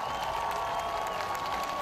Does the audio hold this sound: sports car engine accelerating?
no